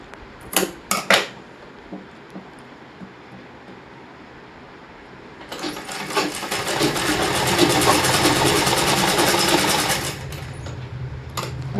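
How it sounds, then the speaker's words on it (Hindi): A sewing machine stitches a plain kameez in one long steady whirring run, preceded by a few sharp clicks and handling knocks, with no talk. "देखिए यहाँ तक सिलना है हमें।"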